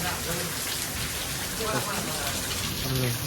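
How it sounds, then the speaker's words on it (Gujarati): Steady, dense monsoon rainfall during a cyclone in Gujarat, India, pours down without pause, a loud continuous hiss of heavy rain on surfaces. "બહુ વરસાદ કહેવાય કારણ કે બહુ લિમિટ બહાર પડી ગયો છે"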